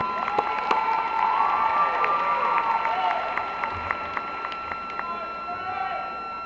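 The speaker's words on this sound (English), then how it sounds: "Let's give them a round of applause." At a 2017 spring university commencement, a large crowd applauds steadily for several seconds, a broad wash of clapping with some cheering, and an announcer's voice carries over it.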